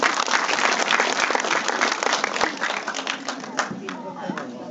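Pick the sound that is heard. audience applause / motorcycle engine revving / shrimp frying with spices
audience applause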